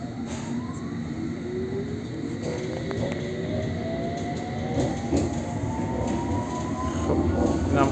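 Steady rumble inside a clean moving passenger train, with rising whine from the motors, rhythmic wheel clicks and faint squeals, loud and continuous throughout.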